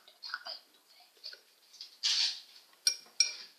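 A spoon clinking against a glass while fishing out a piece of eggshell: a few light, close metallic taps and scrapes, quiet and intermittent.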